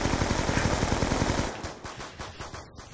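Rapid automatic gunfire from Call of Duty Zombies on the Die Rise map, a dense, loud burst of repeated shots for about a second and a half, then scattered, fading shots and echoes.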